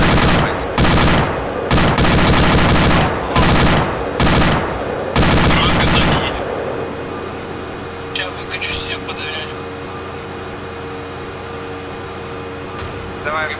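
Bursts of automatic machine gun fire in ArmA 2 with ACE, loud and close, several long rattling volleys over about six seconds, then a quieter stretch with voices talking over a low engine drone.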